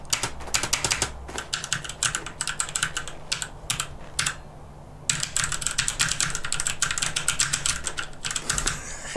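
Rapid typing on a computer keyboard during a live game session, with dense bursts of clacking keystrokes broken by a few short pauses and a longer gap midway, close and fairly loud, with no voices.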